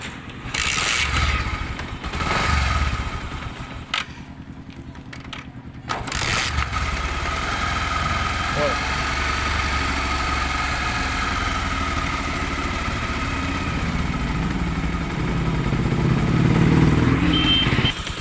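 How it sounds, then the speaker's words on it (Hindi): A Bajaj Pulsar motorcycle engine runs steadily close by, with a rattling mechanical exhaust note from a newly fitted exhaust pipe; it cuts out briefly early on, then idles and revs continuously. "तो इस जगह का साउंड सुन सकते हैं, ये इस पाइप का साउंड किस तरीके का आ रही है।"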